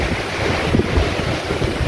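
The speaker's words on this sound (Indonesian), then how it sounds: "Ombaknya gede banget, anginnya kencang" Big sea waves and strong wind at Pulau Pisang Gadang off Padang, Sumatra: a steady, loud rush of surf and gusting wind buffeting the microphone, with no voices.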